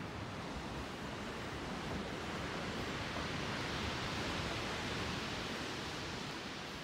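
Broad, constant roar of sea waves and surf, steady and enveloping, with no voices and no distinct breaks.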